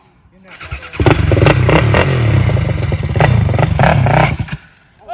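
A 2008 sport quad's engine cranks and catches after a quiet pause, then runs loud and close with a rough, clattering idle and a few blips before cutting back down; a voice is heard over it.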